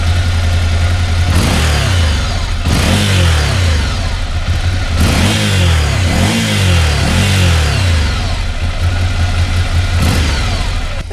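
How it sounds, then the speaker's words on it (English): A Ducati Monster 797 motorcycle's exhaust idles close by in neutral, then revs in a series of quick throttle blips that rise and fall over a steady burbling idle. "I've actually forgotten to do the exhaust sound, which is what everybody loves, a little rev"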